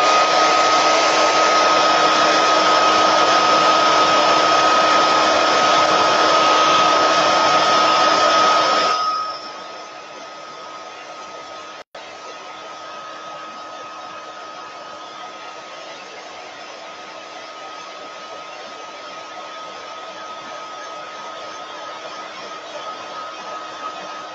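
A hair dryer runs loud and steady for about nine seconds while drying a handmade craft moose, then shuts off, leaving a faint hum with a single sharp click partway through.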